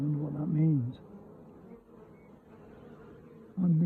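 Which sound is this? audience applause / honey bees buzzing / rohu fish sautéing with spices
honey bees buzzing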